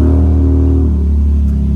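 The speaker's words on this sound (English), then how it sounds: "let's go ahead, fire the truck up" A Toyota Tundra truck fitted with a carbon exhaust idles right after starting up, a loud, deep, steady rumble close by with a faint dip in revs partway through.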